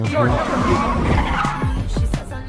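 A Chevrolet car skids with squealing tires and a revving engine during a chase scene from the Barbie movie, loud and close, with voices talking over it.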